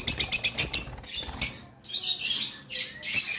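A pair of violet opaline pet birds in a cage, a rapid burst of wing flutters close by, then scattered scuffles and flapping with short bright chirps, no talking.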